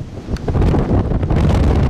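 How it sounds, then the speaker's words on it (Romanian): Strong wind blows across a hillside in Hateg, Hunedoara, gusting loudly and buffeting the microphone with heavy rumbling roar throughout. "Încă în așa vânt n-am filmat niciodată."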